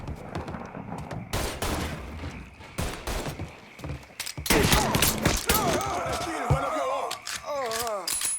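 Gunfire in the video game Mafia III: bursts of rapid shots and heavy single blasts crackle close and loud, with shouting voices breaking in between the volleys.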